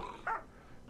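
Dogs in the RimWorld video game bark and growl in one short, rough burst that is faint and set against a steady background hum.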